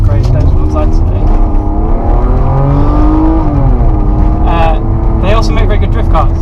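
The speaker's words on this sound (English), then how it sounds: "Both induction noise and actual exhaust noise on this car are perfect." Engine of a 1992 BMW E36 325i, a steady loud drone of intake and exhaust that rises and falls in pitch as it revs, heard up close with someone talking over it throughout.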